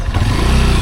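A motorcycle on a rough rural dirt road in Barangay Paraiso, Mahayag, Zamboanga del Sur, roars loud and close, its engine drone filling a brief moment with a rattly mechanical edge.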